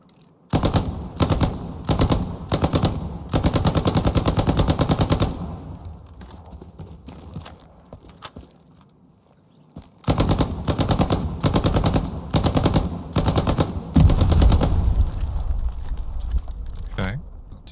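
Bursts of 9mm submachine gun fire in the World War II shooter Hell Let Loose, several loud rapid strings of shots separated by pauses, with quieter footsteps and movement between bursts.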